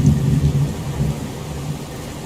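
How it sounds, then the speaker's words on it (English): Heavy pouring rain with a low rumble of thunder, a steady dense wash of downpour outdoors that stays loud and continuous throughout. "It's pouring rain."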